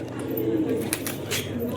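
Pigeons coo softly nearby, low throaty calls under light background noise and rustling.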